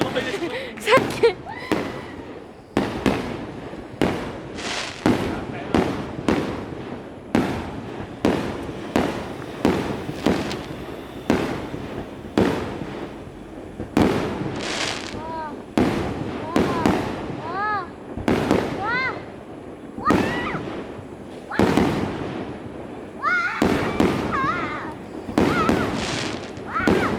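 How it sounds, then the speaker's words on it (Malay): Fireworks bursting repeatedly at an Eid celebration, a steady run of sharp loud cracks and bangs nearly every second, with people talking and exclaiming between the blasts. "bunga api mahal."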